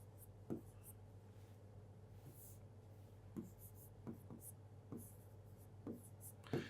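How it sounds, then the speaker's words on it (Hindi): Chalk or marker tapping and scratching on a board as English words are written during a geography lesson, faint strokes under low room hum with a quiet voice murmuring. "मैं इंग्लिश में लिख दे रहा हूं।"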